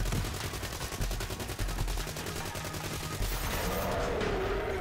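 Rapid, continuous gunfire from the bounty gun in the arcade-style video game Dead Ops Arcade 2, a dense loud stream of shots with steady rhythm lasting several seconds.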